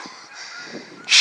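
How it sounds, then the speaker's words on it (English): Wild geese honk loudly as they fly over outdoors, a brief burst of nasal calls after a faint, steady background hum. "All the damn wild geese are flying over now and they want to get in my video."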